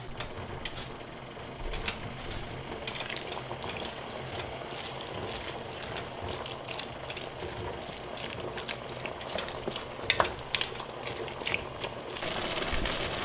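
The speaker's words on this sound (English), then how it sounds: "All right, so we're boiling." Chow chow relish boils in a pot on the stove, a quiet steady bubbling with scattered soft pops and ticks, faint and close, with no talk.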